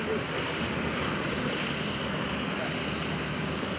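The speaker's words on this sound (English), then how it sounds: "here comes Stripes in for the landing" A Team RV propeller airplane comes in to land at the 2011 Greenwood Lake Airshow, its engine a steady broadband drone that holds at an even, fairly loud level throughout.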